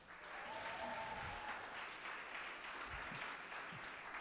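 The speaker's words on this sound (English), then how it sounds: "Please give Ash a big round of applause." A live in-person audience at a Sheffield meetup applauds to welcome a speaker, producing a steady, dense round of clapping that holds at an even level for about four seconds.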